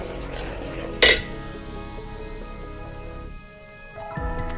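Metal spoon stirring ground fish curry masala with coconut oil in a cooking pot, giving one sharp clink followed by soft scraping over a steady background tone.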